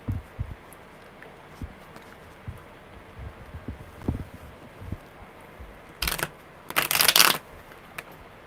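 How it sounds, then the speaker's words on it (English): Tarot cards are shuffled by hand, with soft scattered taps and riffles early on, then two loud, crisp bursts of card shuffling close up near the end. "Well, that was a bad shuffle."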